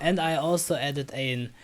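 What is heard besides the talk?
No everyday noise stands out behind the speech.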